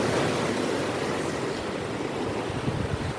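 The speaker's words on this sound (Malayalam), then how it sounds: "ഇതാ തിരമാല നോക്കിയിട്ട് നിങ്ങൾ." Big sea waves breaking on the shore in a windy seaside setting, a continuous loud roaring wash with wind buffeting the microphone, no talking.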